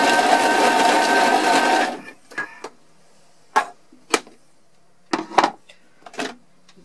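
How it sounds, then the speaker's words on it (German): A Thermomix TM31 whirls flatbread dough briefly at speed 5–6, a loud dense motor burst for about two seconds that stops abruptly, followed by scattered clicks and knocks of the bowl and lid. "in den Thermomix einsetzen, kurz auf Stufe 5, 6 und wieder zurück."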